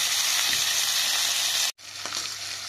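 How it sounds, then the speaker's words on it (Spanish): Pork loin fillets sear in hot oil in a home kitchen pan, giving a loud, steady sizzle with a brief dropout partway through. "Una vez que nuestro aceite ya está caliente, vamos a sellar vuelta y vuelta a nuestros filetes."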